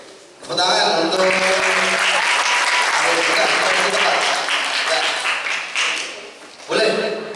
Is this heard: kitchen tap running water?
no